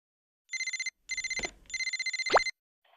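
A cartoon telephone rings in three bursts of rapid electronic trilling, loud and close, with a brief swooping effect near the end.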